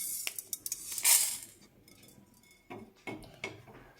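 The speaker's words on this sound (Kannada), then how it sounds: "ಪ್ಲೇಟಿಗೆ ಹಾಕ್ಕೊಳ್ತೀನಿ ಇದನ್ನು." Fenugreek seeds are tipped onto a plate while a sambar is cooked, giving a few light clinks and rattles followed by a brief scattering clatter, close and fairly quiet.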